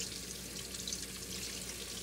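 Tap water runs steadily into a sink as hands are rinsed, a soft constant hiss and splash with no talking.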